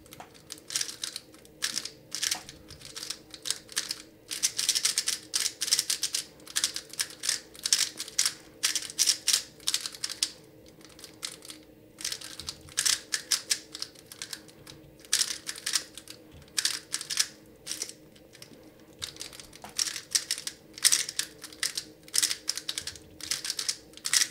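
A speed cube freshly lubricated with SOLAR lube clicks and clacks rapidly as it is turned up close, in irregular bursts of quick turns separated by short pauses.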